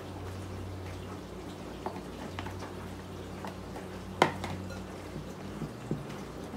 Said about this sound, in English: I'm going to go ahead and mix in the rest.